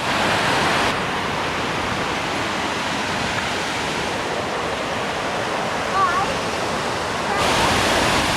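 Waterfall in Virginia Water park, a rebuilt cascade with a grotto at its base, giving a steady, loud, broadband rushing roar that fills the whole stretch without a break.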